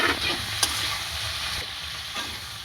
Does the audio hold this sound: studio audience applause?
no